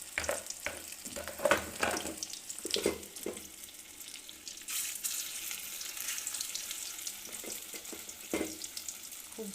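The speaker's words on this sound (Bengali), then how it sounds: "বড়াগুলোকে ছাড়বো এবারে" Prawn fritters slide one at a time into hot oil in a wok and fry with a steady crackling sizzle, broken by a few louder splashy bursts and light stirring knocks.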